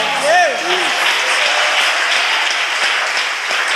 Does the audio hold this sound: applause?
yes